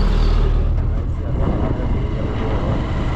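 A motorbike being ridden and maneuvered along a route, its engine a steady close rumble with wind noise, no talking over it.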